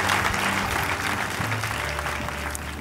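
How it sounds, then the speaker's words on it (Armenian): A studio audience on an Armenian sports show claps steadily as a guest heads to the running track. The close, even clapping eases slightly toward the end. "Արամեին եկեք ծափարություններով ճանապարհենք դեպի վազքուղի"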